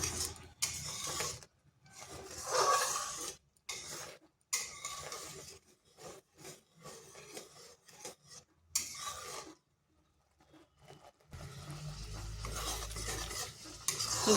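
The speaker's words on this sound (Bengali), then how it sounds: "আঁচটা স্লো আঁচে রেখে বেশ কিছুক্ষণ এইভাবে ফুটিয়ে নিতে হবে" Tomato jelly simmering on a slow flame, a faint, intermittent scraping and stirring in a pan with soft bubbling underneath, quiet and close, with pauses between strokes.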